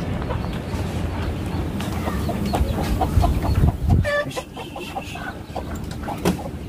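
Chickens cluck and murmur nearby in the late afternoon, a few short calls rising over rustling background noise, fairly close and moderately loud.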